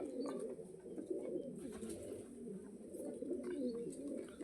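Native-breed pigeons coo continuously at close range, soft overlapping throaty calls rolling one into the next with no voices present.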